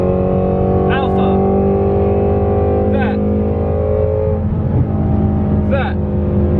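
A Ford Mustang GT350 driving hard on a mountain road, its loud, close engine droning steadily as it revs up through gears in three rising sweeps, each shift marked by a brief dip in the exhaust note.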